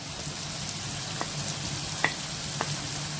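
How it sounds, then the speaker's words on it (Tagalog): Onion and tomato sauté in a pan with eggplant, a soft steady sizzle with a few sharp ticks and pops, no talk. "At igigisa natin siya"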